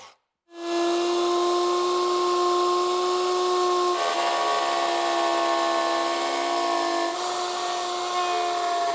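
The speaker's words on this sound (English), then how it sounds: "The router is connected to a solid panel that's revolving around a center pin." Wood router cutting a circle in a solid wood panel that revolves around a center pin, a loud, sustained, high tonal whine with steady cutting noise that shifts pitch slightly partway through.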